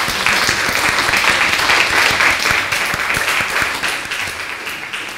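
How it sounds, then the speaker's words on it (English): Warm applause from a lecture audience, a dense, sustained clatter of many hands that holds steady and then slowly eases off toward the end. "So warm applause to you"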